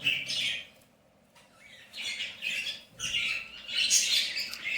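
A white budgerigar chick, still not fully feathered, gives repeated raspy squawks in several close, loud bursts with brief pauses between them.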